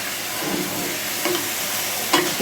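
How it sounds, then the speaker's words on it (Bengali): Momo filling frying in a pan while being stirred, a steady close sizzle with a few spatula scrapes and knocks toward the end. "এগুলোকে একটু ভালো করে ফ্রাই করে নেব আর এটাকে আমি ভালো করে একটু নেড়ে নেব নাহলে এর নিচে নিচে লেগে যাবে"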